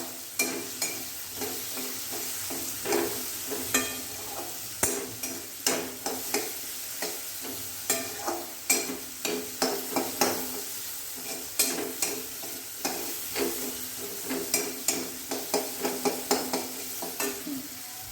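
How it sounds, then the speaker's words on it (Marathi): Potatoes sauté in oil with red chili powder, a continuous sizzle broken by frequent rhythmic scraping stirs, close and steady throughout, with no voices. "आता मी बटाटा कोवळा तिखटामध्ये परतून घेतो आहे"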